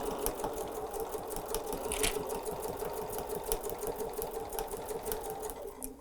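A sewing machine backstitches at the start of a seam while attaching bias binding around a curve, giving a steady, quiet, rapid mechanical stitching rhythm with no talk.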